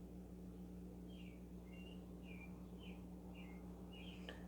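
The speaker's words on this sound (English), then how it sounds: "Here are all the birdies happily chirping." Several birds chirp in short, high, evenly spaced calls over a steady low hum, faint and somewhat distant.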